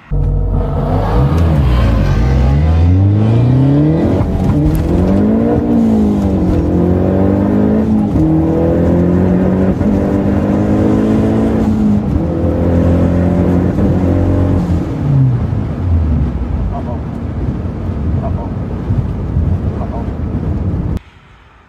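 A Mazdaspeed car accelerates hard down a drag strip, its engine loud and close, climbing in pitch through repeated gear shifts, then fading into a lower drone as it pulls away.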